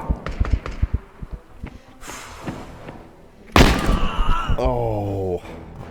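Grenades land in a firefight in the shooter game ExfilZone: scattered thuds and knocks build up, then one loud, sharp blast rings out and trails off under a droning tone.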